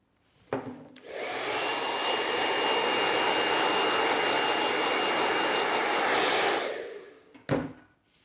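A blow dryer blasts freshly cut hair off after a taper haircut, starting with a click and running as a loud, steady roar for about six seconds before cutting off, followed by a short handling bump.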